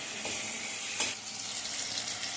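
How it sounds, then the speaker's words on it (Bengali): Finely grated ginger fries in hot oil for khichuri, giving a soft, even sizzle with one brief stirring scrape partway through, close and fairly quiet, with no voices. "এবারে আমি এটাকে নেড়ে ভালো করে ভেজে নেব"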